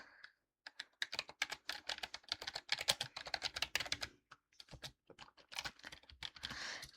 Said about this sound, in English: Just type anything in here.